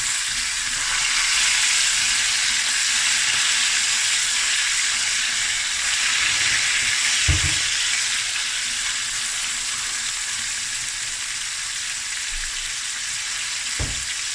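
Snoek fish sizzles and spits in a hot frying pan as part of a fried snoek and tomato-onion smoortjie dish, a steady loud hiss with a couple of sharp knocks from turning the fish.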